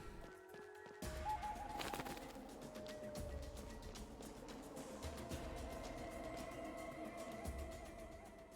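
Faint bird cooing in the video game Chained Echoes, heard under a continuous ambient game soundscape with low rumbling and a brief tonal chime, distant and soft.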